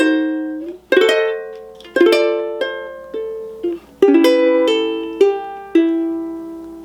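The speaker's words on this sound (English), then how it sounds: "let me play these 4 bars for you starting at measure 25" Solo ukulele plays a four-bar passage of a song, beginning at measure 25: a steady run of plucked chords and melody notes, about eight attacks, each one ringing out clean and close.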